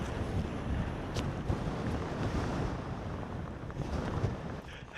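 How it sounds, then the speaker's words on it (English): Strong, gusting wind buffets the microphone on the summit of Causey Pike in the Lake District, a loud continuous roar with heavy low rumble and no other sounds. "Struggling to move the camera, it's that windy."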